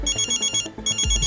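A phone ringtone chiming in quick repeated pulses, loud and close, with a short break before the pattern resumes.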